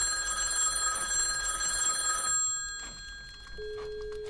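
An old telephone in a sheriff's office in a dreary little desert town rings with a loud metallic bell trill for about two seconds, then falls quiet apart from faint room tone and a low hum.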